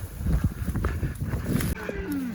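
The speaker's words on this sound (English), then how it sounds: "Another recurring theme for today, cow obstacles." Cows in an open field give a low moo at close range, mixed with rustling and outdoor movement noise.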